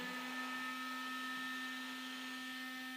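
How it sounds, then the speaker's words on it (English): A blower or heat gun runs steadily and close, a constant droning hum with a sustained tone, drying the freshly cut edge of vinyl wrap on a BMW drift car. "Blow dry the edge you just cut with the fishing line."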